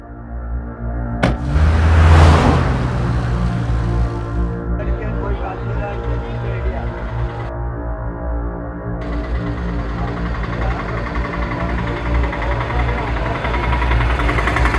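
A vehicle engine catches with a sharp start and then runs steadily, a loud, even mid-range rumble that holds for over ten seconds as the vehicle pulls away.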